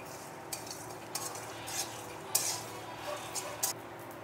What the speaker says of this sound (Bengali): একটু শুকনো খোলায় ভেজে নিচ্ছি।